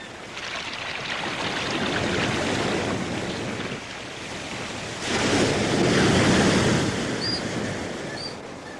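Stormy sea off the Shetland coast: heavy surf roars and crashes continuously against rocks, with wind rushing over it; a second, louder wave surges in midway, and no one speaks.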